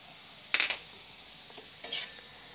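Goat brain (bheja fry) frying in a pan with crushed red chilli, two short stirring scrapes over a soft, continuous sizzle.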